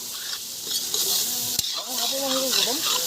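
Loud, continuous sizzling of duck meat frying in a wok, with stirring scrapes and a brief squeaky whine near the end.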